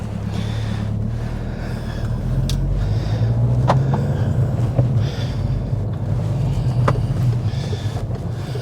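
Steady engine hum and road rumble from inside a moving Volkswagen Scirocco coupe, with wind noise and occasional small clicks and knocks, no talking.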